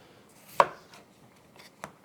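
Knife chopping ingredients for a red chicken stew on a board: one sharp, loud chop followed by a few fainter cuts and a second clear chop near the end, with quiet pauses between.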